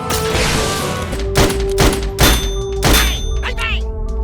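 In the Sam & Max VR video game, several sharp gunshots crack at the shooting gallery targets, spaced roughly half a second apart and loud and close, with ringing metallic hits and a whooshing effect at the end.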